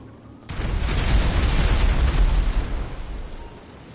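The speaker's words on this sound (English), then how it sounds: "I like explosions." Explosions sink boats in the video game GTA Online, a sudden loud blast followed by a heavy, rumbling roar that sustains and slowly fades over several seconds, with no talk.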